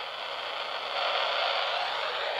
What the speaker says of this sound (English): So that noise is radio static, and you get it in between the radio stations.